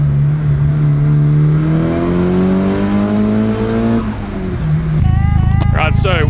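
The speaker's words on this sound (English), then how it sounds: "4-cylinder. Yeah, you really got to rev this car." Four-cylinder engine of a Toyota JZX100 Chaser car fitted with a VAREX remote-control muffler revs hard and loud up through the range, pitch climbing steadily, then drops and settles into a rough idle, with a voice talking over it.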